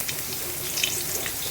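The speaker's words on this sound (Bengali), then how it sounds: "এখানটায় প্রথমে লঙ্কা দিয়ে দিই।" Chili dropped into hot oil in a home kitchen pan while cooking ridge gourd and potato, giving a steady, close hiss and crackle of frying. The sizzle stays even throughout, with no talk.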